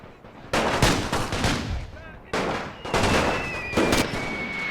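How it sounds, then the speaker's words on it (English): Mortar fire in the World War I video game The Great War 6.0: a burst of heavy blasts and crackling gunfire in rapid, overlapping volleys, loud and close, with a thin whistling tone drifting through the later impacts. "We're taking mortar fire."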